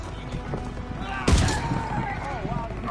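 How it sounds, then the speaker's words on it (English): An anti-aircraft gun fires in the Call of Duty WWII video game. A single loud, sharp blast rings out partway through, while players talk over the game's background noise. "Daniel, shoot the AA gun!"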